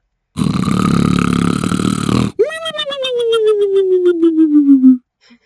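A comic snore effect from the Scratch sound library: a long rasping inhale followed by a whistling tone that slides downward, loud and exaggerated, heard once.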